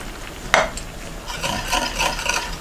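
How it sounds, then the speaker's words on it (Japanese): A spoon stirring soy milk, sesame and miso into a pot, a sharp clink near the start followed by busy, wet swishing and scraping, close up with no talking. "豆乳とごまと味噌をね、混ぜながら入れていくと非常に馴染みがいいです"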